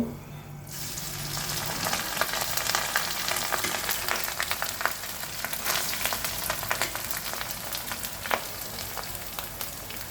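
Cooked rice hits a hot wok of oil with chopped ginger, starting with a soft pour before a loud, steady frying sizzle fills the rest of the clip, with faint crackles and stirring.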